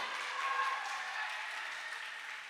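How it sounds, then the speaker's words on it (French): An audience applauds two dancers at a choir competition event, a steady wash of clapping from a crowd, moderately loud and continuous throughout. "Je vous demande de les applaudir à nouveau."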